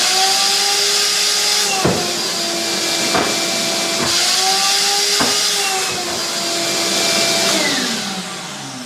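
Ridgid 14-gallon shop vac running loud and steady as it sucks up a quart jar of stain, its motor whine shifting in pitch with several sharp gulping pulls as the liquid is drawn in.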